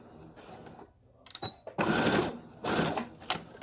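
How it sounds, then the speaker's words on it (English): A sewing machine back stitching a surgical face mask runs in short bursts: a brief whir, then two longer loud runs of stitching with pauses, close up and with no talk. "And then you're going to back stitch."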